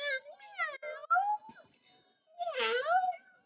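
A voice mimics a cat with several wavering meows, close and clear, separated by short pauses.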